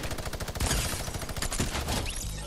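Rapid bursts of gunfire from the video game Fortnite crackle loudly and close in quick, regular succession, with no voices over them.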